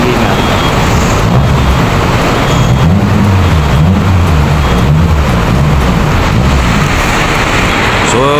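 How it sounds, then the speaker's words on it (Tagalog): Heavy rain pours steadily around a moving DLTB passenger bus on the Bicol–Visayas route toward Matnog, a dense continuous hiss over the low rumble of the engine and road, with talk faintly underneath throughout. "Lakas talaga ng ulan, no?"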